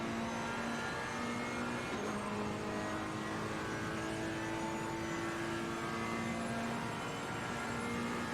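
GT3 race cars, a Ferrari and a McLaren, roar around Suzuka in Assetto Corsa Competizione, a steady loud drone of engines at high speed with sustained tonal whine, running continuously throughout without pauses.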